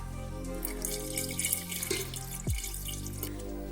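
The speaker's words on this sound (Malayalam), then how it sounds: "ഇത്തിരി തിളപ്പിച്ച് തണുപ്പിച്ച പാൽ ഒഴിച്ചു കൊടുക്കാം" Boiled and cooled milk pours into a pan while making a sweet banana dish, a steady close liquid trickle and splash with a brief sliding pour sound midway, no voices.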